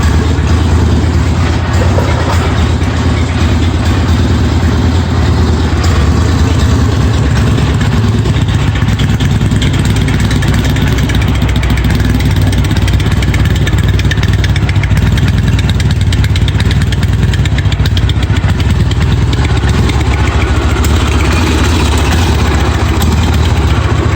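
A 1981 Yamaha XS650 Special motorcycle engine idles close by, a steady, even rumble that holds at one level throughout with no talking.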